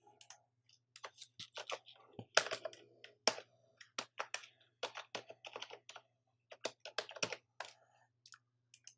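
Fingers type text on a computer keyboard in close, quiet, irregular bursts of clicky keystrokes with short pauses between them.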